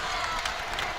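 Crowd at Liberty Arena roars during a Liberty Lady Flames versus Duke women's basketball game, a brief dense burst of cheering and clapping.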